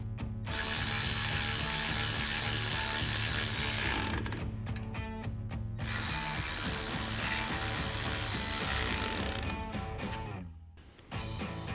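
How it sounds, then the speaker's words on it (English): A hand ratchet on a 17mm socket, backed by a 16mm wrench, clicks steadily while tightening the bolts of a Rugged Ridge sports rack on a Jeep Gladiator JT, a close, continuous rapid clatter broken by brief pauses. "do the same thing for the other side using a 17mm socket and a 16mm wrench"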